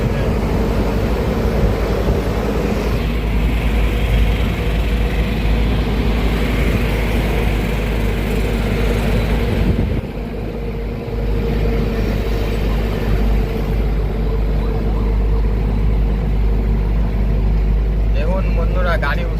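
A heavily loaded truck on a Kolkata to Assam run labors up a hill in second gear, its engine a loud, steady low drone that continues under someone talking almost the whole time.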